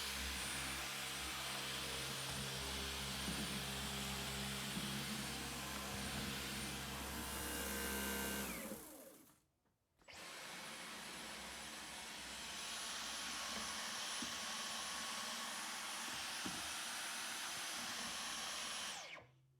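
A Dyson cordless vacuum cleaner runs with a steady, airy motor whine, cutting out briefly near the middle and then running again at the same level until it stops at the end.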